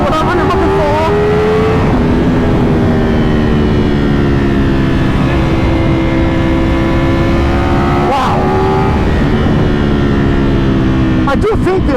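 A Ducati Panigale V4 R motorcycle engine pulls hard in second gear, its loud, close roar rising in pitch, then dropping briefly at a shift before climbing again.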